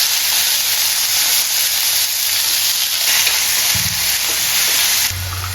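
Banana pieces frying in hot oil with a tempering of mustard seeds, cumin and dried chillies, a loud, steady sizzle with a brief stir near the end and a drop in level as the pieces settle.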